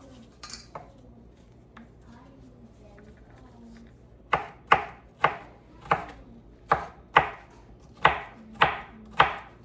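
Vegetables are chopped with a knife on a board for Jamaican saltfish fritters, about ten crisp, evenly spaced thuds close by, preceded by quieter kitchen clinks and faint background noise.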